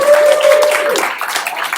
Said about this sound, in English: Huge round of applause for Rajiv.